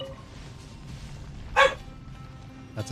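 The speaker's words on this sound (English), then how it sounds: "That's a dog." A single short dog bark from within the video game Genshin Impact, sharp and fairly close, rising once above a quiet ambient game background with a faint second sound near the end.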